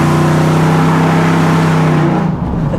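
A 2005 Chevrolet Avalanche engine runs loud and steady with a continuous low drone, easing off near the end into a rougher idle.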